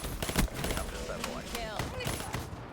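Black Ops 3 shotgun fire comes as a few sharp, close blasts mixed with other gunfire, while someone talks over the shooting.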